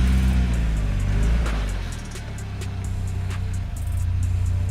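A UAZ Patriot SUV revs with a low engine rumble as its wheels slip briefly, then the drone eases and steadies as the vehicle pulls forward, loud and close.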